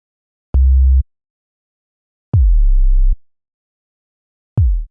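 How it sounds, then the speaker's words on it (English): Three synthesized kick drum hits, each a sine wave with a sharp attack that sweeps downward in pitch into a deep boom, spaced apart with silence between them. "It's a sine wave with a downward pitch envelope and volume envelope."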